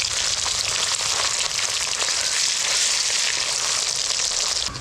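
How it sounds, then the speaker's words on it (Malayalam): Large pieces of kanambu fish fry in hot oil, a dense, loud, continuous sizzle that stays even and close throughout with no voices. "മീൻ ഉടഞ്ഞു പോകാതെ ഇതുപോലെ വറുത്തെടുക്കണം"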